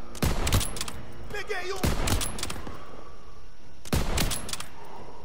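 Gunfire at turrets in Call of Duty WW2: loud bursts of shots, a long volley at the start and another near the end, with a shouted voice in between.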